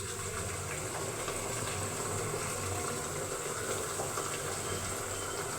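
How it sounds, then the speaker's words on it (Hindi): Water runs steadily from a tap while poha is rinsed, giving a continuous, even hiss with a faint splashing texture throughout and no talking. "इसके अंदर से बहुत गंदा पानी निकल रहा है।"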